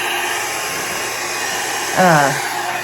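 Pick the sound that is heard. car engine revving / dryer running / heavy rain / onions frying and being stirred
dryer running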